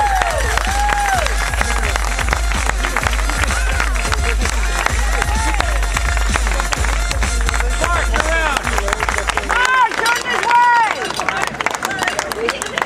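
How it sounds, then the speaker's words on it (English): Crowd applause and cheering for a professional cycling sprint team at a race team introduction, broad and sustained under a loud voice talking through amplification, with clapping swelling near the end. "one more round of applause"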